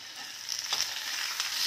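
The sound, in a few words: stirring frying potato slices with red chili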